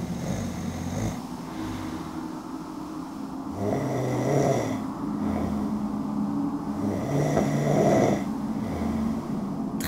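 A man snores in bed in a couple's bedroom, with slow, regular rasping breaths repeating about every four seconds, steady and close with no talking.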